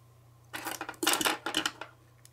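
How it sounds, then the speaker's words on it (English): Masking tape torn off a roll while masking a wood-side boxcar model for painting, a crackling rip in two or three quick pulls over about two seconds, close and fairly loud against a steady low hum. "So I'll just take a piece of tape here"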